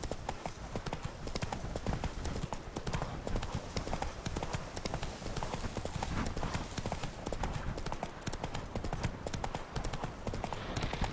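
Roach the horse from Witcher 3 trots along, steady clip-clop hoofbeats repeating fast and evenly throughout. The hooves are loud and close under game ambience, and a voice is heard speaking over them.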